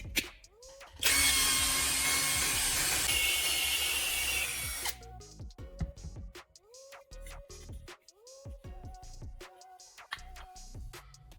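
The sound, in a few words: drill making a hole in a lid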